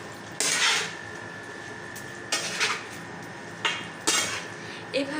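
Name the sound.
stirring chicken in a pot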